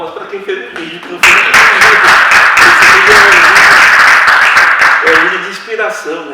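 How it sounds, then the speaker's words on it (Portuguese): Applause for the makers of a video at a Tupi talk, with a voice speaking before a loud burst of dense clapping that holds steady for several seconds, then trails off as talk resumes. "Palmas para quem fez o vídeo."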